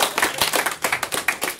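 A small crowd at a rap battle claps in quick, sharp bursts, close and fairly loud, with no talking over it.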